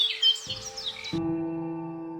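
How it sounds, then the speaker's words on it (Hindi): Birds chirp and tweet in quick, bright bursts in a village at the start, then give way to a steady low hum that continues to the end. "और चिड़ियों की आवाज पूरे गांव में गूंज रही थी।"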